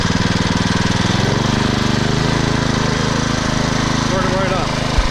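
A Troy-Bilt Super Bronco rear-tine tiller, still hot and on old gas, fires up and keeps running with a loud, steady, chugging engine rhythm close by, with no speech over it.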